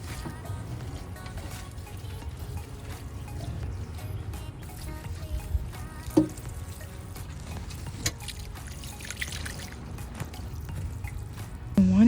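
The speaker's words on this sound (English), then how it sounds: "use my little plastic watering can, dip it, and start watering" Water with fertilizer poured from a small plastic watering can onto indoor seedling plants, a soft continuous trickle with occasional drips and splashes, close and moderate in level.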